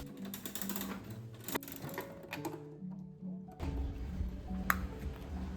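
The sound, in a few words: gashapon capsule machine being turned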